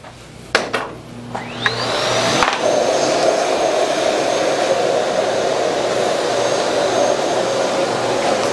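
A Miele Boost CX1 Cat & Dog canister vacuum cleaner runs on high suction with bristles extended, a few clicks and knocks giving way to a loud, steady whooshing roar with a rising whine as the motor spins up.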